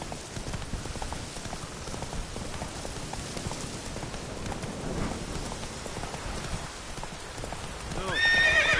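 Roach, a horse in a video game, gallops with steady rapid clip-clop hooves and a whinny, over a continuous rain-like wash that swells louder near the end.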